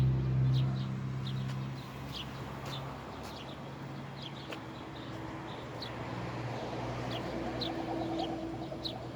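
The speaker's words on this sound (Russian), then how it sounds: "Ох, воробьев-то сколько здесь." Sparrows chirp in scattered short tweets while feeding on seeds in a green meadow by a fence in a city yard, a faint flock heard over low steady outdoor background noise.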